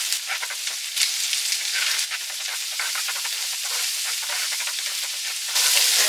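Diced red onion and golden raisins sautéing in a pan give a steady, close hiss and crackle that runs without pause and swells slightly louder near the end.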